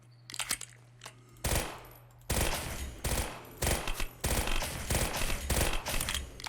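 Rapid automatic gunfire in a mobile gun mod shooting game, loud bursts of fast shots in several separate strings with short pauses between them, close and alone.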